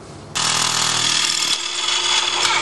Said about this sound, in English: So I'm going to drill an inch and a half hole close to that where that suction hole is going to be